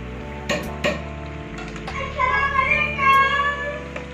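Keema samosas with a maida pastry shell frying in hot oil, a close steady sizzle with a few sharp metallic clinks of a utensil against the pan near the start.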